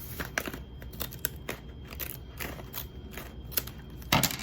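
Crisp snipping and crunching of scissors cutting through paper, a steady series of short cuts up close with a louder crunch near the end.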